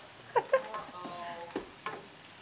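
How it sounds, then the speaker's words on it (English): Rice crackles softly in oil and butter as it is stirred, a low sizzle with a few scraping strokes and faint tonal clinks near the start. "we're going to mix the rice all around, make sure that we get the oil and butter, start to coat it"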